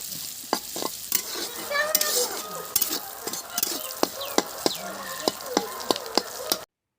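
Bay leaf, dried red chillies and cumin sizzle and crackle in hot oil in a kadhai, making a steady close frying hiss broken by sharp pops and the clink of a stirring spoon.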